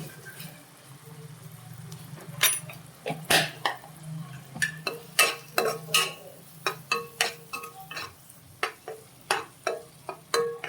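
A spoon scrapes and clinks against a pot while turmeric and chili powder are stirred into puliyogare mix, about a dozen sharp strokes in a quickening rhythm over a low steady hum, nearby and moderately loud.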